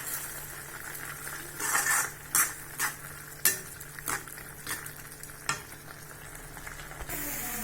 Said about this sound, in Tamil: இந்த அளவுக்கு நல்லா வதங்கிட்டுங்க.